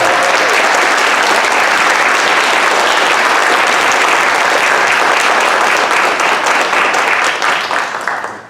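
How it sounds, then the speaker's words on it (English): A crowd applauds steadily and loudly for Xavier Becerra, a candidate for governor of California, at a campaign rally. The dense clapping holds nearly level throughout and eases off at the very end. "Please give him a round of applause"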